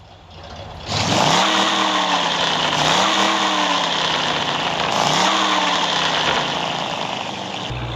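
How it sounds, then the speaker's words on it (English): A Chevy Impala V8 in the video game Car Parking Multiplayer idles, then revs hard in two or three swelling, deep throttle blips before settling into a loud, sustained engine drone. "Here are the top for best V8 engine sound in car parking multiplayer. At number 4 is the Chevy Impala."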